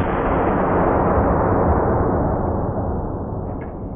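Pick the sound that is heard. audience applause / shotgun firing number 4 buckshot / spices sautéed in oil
shotgun firing number 4 buckshot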